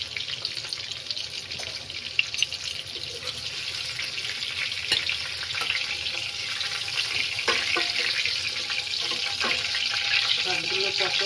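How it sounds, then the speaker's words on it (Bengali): Pointed gourd (potol) frying in a pan, giving a steady, continuous hiss of sizzling oil with occasional clinks and stirring noises, close by and without talk. "ভালো করে লাল লাল করে ভেজে নেব"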